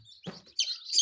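Baby chicks give several short, high chirps that cluster near the end, with a brief low handling rustle earlier and no talking.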